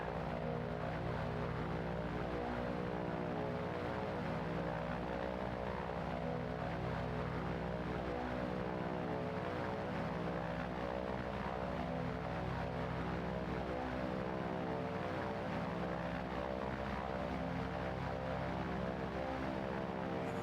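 A light aircraft engine runs at full power on a cadet training flight takeoff, a steady, loud, droning hum with a strong buzzing tone that holds constant throughout.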